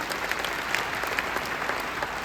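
An audience at a business gathering in New Delhi gives a short, steady round of clapping, a dense burst of applause heard from some distance.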